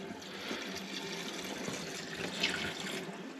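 RV antifreeze poured from a jug into a drain trap, a steady close gurgling liquid pour with no talking.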